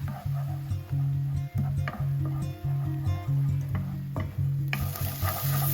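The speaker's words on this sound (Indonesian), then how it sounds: "Lalu tumis bumbu halus hingga kering dan matang." A ground spice paste sizzles in olive oil in a pan while a utensil scrapes and stirs in repeated strokes, close up with no talking.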